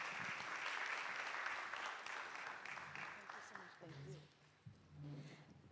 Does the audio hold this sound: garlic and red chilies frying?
no